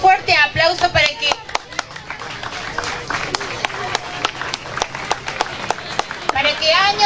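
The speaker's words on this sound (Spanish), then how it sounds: "Hagamos un fuerte aplauso" Loud crowd applause fills the space at a disability integration event, steady clapping from many hands, rising and swelling at the start and end.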